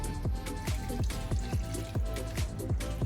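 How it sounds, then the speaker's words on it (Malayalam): Brine saved from dried mangoes for an adamanga pickle is poured into a cooking pan, giving a steady run of close, rhythmic glugging drips with no voices. "മാങ്ങയിൽ നിന്ന് എടുത്തു വെച്ച വെള്ളമാണ്, ഇത്രയാണ് വെള്ളം കിട്ടിയിരിക്കുന്നത്. അതും കൂടെ ഇതിലോട്ടങ്ങ് ഒഴിക്കുകയാണ്."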